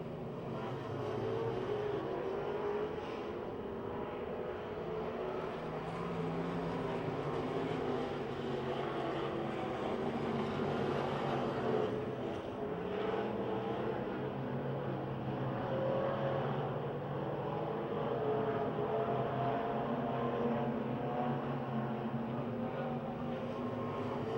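Race cars lap Pennsylvania Motor Speedway in Pittsburgh, their engines blending into a steady, loud, unbroken roar that holds for the full stretch with slight swells as they pass.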